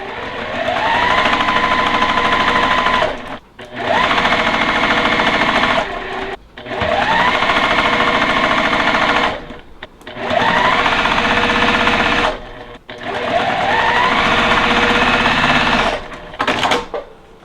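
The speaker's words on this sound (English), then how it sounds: "we can go ahead and sew this top row" Sewing machine stitching a quilt top row, loud steady mechanical whirring in five long runs separated by brief pauses, close by with no talk.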